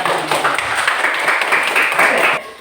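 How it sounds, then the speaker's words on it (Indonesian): Students clap for a classmate during an Indonesian lesson about David, with a short burst of many quick, close, uneven hand claps filling the room before it fades. "Tepuk tangan untuk dia."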